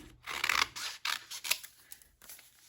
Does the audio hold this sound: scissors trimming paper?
yes